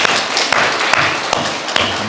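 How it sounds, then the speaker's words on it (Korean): Congregation applauding during a Sunday church service, a brisk wash of many hands clapping with a few sharper claps standing out, close and steady for a couple of seconds without talk. "우리 찬양해 주신 우리 유자량 집사님 그리고 여전교회들 격려하면서 하나님께 영광을 돌려 큰 박수 드리시겠습니다."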